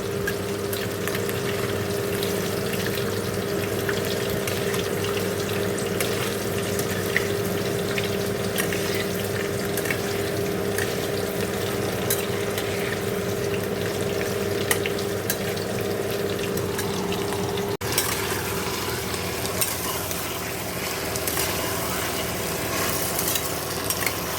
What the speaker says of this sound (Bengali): তো চলো আগে আলুগুলো ভেজে নেবো।